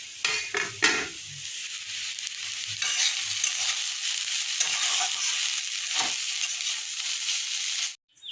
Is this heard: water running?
no